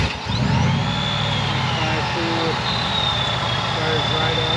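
A supercharged 5.4L V8 in a 2000 Ford F150 SVT Lightning pickup, heard loud and close with a steady idling rumble and a faint supercharger whine over it.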